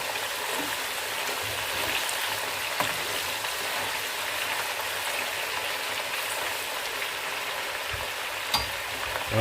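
Dried beef frying in hot oil, giving a steady, even crackling sizzle throughout with a couple of sharper pops, with no voices.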